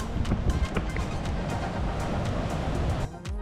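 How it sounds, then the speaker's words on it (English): Surf rolls and washes along the Ivory Coast shoreline as a continuous, dense roar mixed with gusty wind buffeting the microphone, fairly loud and close. "we are now heading to Abidjan, the capital of Ivory Coast, and here is the coast"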